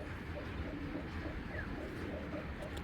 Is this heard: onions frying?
no